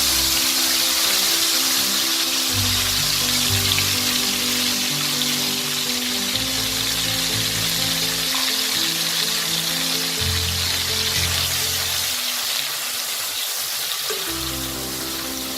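Ginger, onion and garlic paste fries in a pan for a shrimp biryani, a loud, dense, rain-like sizzle running without pause, with a low hum shifting underneath; no one speaks.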